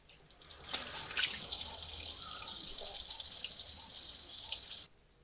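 Tap water runs steadily into a container to cover areca nuts for soaking, a close, continuous splashing rush that fills almost the whole clip before cutting off abruptly near the end.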